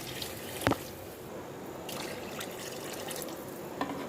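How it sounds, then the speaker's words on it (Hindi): Water from a bowl being added to a cooking pot of browned arvi (taro root) and chicken in ghee, a soft continuous pouring wash with a couple of sharp knocks, close and fairly quiet with no speech. "अब मैं 2 बाउल ये पानी के ऐड करूँगी इसमें।"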